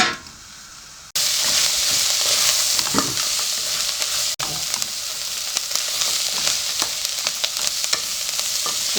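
Beef stew meat frying in a pot, a loud, steady sizzle close up, broken by a spoon scraping and stirring through the meat in short, repeated strokes.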